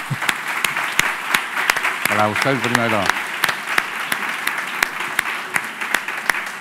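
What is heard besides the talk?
audience applause at a conference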